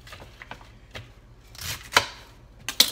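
Vegetables chopped by knife on a cutting board for lunch, a series of sharp, close taps in an uneven rhythm with a couple of louder strikes near the end.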